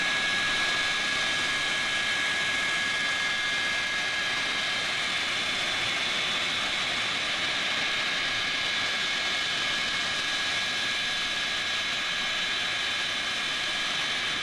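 Aircraft engine at a D-Day 50th anniversary event, a constant loud roar with a steady high whine running throughout, no talk.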